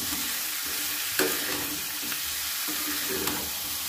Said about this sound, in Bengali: আলু কিছুটা ভাজা হতেই দিয়ে দিলাম কড়াইশুঁটি আর বেগুন